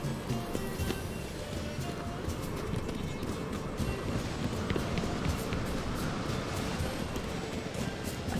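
A horse gallops in The Witcher 3 video game, its hoofbeats drumming rapidly and continuously under a dense wash of game noise, with faint voices now and then.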